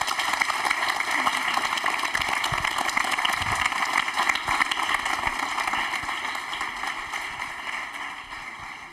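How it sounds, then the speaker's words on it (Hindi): At a televised quiz show, a studio audience keeps up steady applause for several seconds, a continuous crackling wash of clapping over a constant hum, fading slightly toward the end. "तालियां एक बार हिमांशी के लिए जोरदार हो जाएं"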